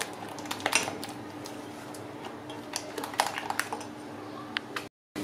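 A utensil scrapes and taps quickly against a pan while béchamel sauce is stirred, light irregular clinks over a low steady hum, with a brief dropout near the end.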